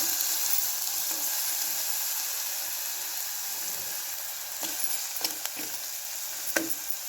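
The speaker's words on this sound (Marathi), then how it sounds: "हे सगळं व्यवस्थित तेलामध्ये परतवून" Finely chopped green chilies and garlic-coconut paste fry in hot oil with a steady close hissing sizzle, a few stirring scrapes and clicks breaking through toward the end.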